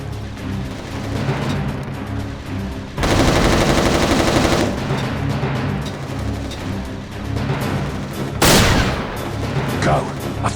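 Machine gun fire in the PSP shooter Resistance: Retribution, sustained rapid bursts with a heavy loud stretch in the middle and a sharp blast near the end, over game combat noise and battle chatter.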